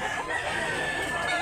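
A bullstag gamecock rooster crows once, a brief, bright, strained call held for about a second, fairly close and loud.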